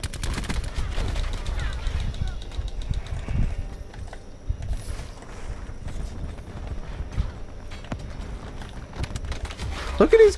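Gunfire rattles in a team deathmatch shooter video game, scattered bursts and single shots at moderate distance mixed with clattering footsteps and game noise, with a voice talking over parts of it.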